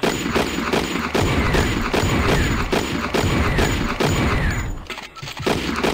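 Rapid, relentless gunfire from the video game Thing Thing 2: loud shots stacked in quick bursts almost without pause, forming a dense, continuous barrage.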